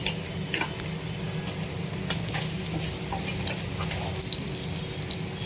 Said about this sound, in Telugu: ఉల్లిగడ్డ మంచిగా బ్రౌన్ కలర్ వచ్చే మంచిగా ఫ్రై చేసుకోవాలి